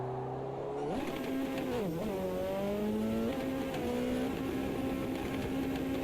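Rallycross car engine revving hard with the clutch half engaged, a loud sustained drone whose pitch jumps up and sags repeatedly, with a slight tyre-squeal edge throughout.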